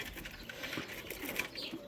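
Turtle doves in a backyard coop give soft, faint cooing calls against low background noise, with no one speaking.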